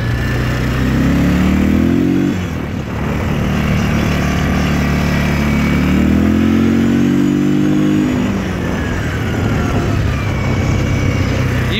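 A 2008 Yamaha Wolverine 350 2WD ATV engine runs loud and close, rising in two revs that climb and fall back to a rough, steady idle, with no voices.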